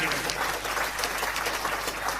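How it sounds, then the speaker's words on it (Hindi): Audience applause at a Bagheli-language comedy poetry gathering (kavi sammelan), a dense, steady wash of many hands clapping that holds evenly throughout at moderate loudness with no voice over it. "जोरदार तालियां हो जाए।"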